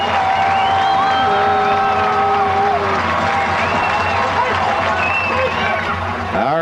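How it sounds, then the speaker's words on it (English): A crowd at the 1999 Salem Spartans vs Park View Patriots high school football state championship roars steadily throughout, a thick wash of cheering and babble with a commentator talking over it. "Listen to this crowd."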